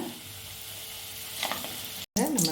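Onion samosas dropped into hot oil for deep-frying give a steady, soft sizzle and bubbling, rising slightly near the end, then a brief cut before a voice speaks over the frying.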